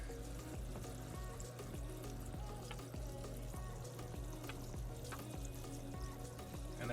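Water runs steadily through a waterfall-style airbrush spray booth, a continuous rushing, splashing wash that stays loud and even throughout with no talking.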